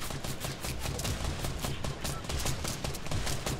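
Rapid gunfire in Fortnite Battle Royale, a dense stream of close shots firing continuously throughout at a steady loud level.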